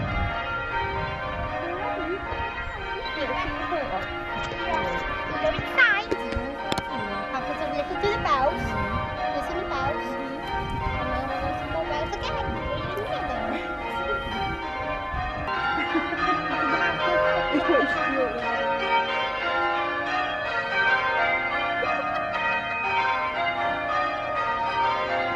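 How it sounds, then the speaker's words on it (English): Sunday-morning church bells ring on and on as a dense, continuous peal with overlapping tones, steady and moderately loud, with children's voices and other talk mixed in. "I don't think these bells are ever going to stop."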